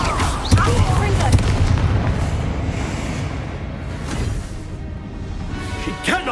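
A Confringo spell explosion from Hogwarts Legacy, heavy booming blasts and crashing impacts layered with combat effects and game voices, loud and close.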